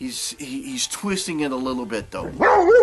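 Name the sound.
dog barking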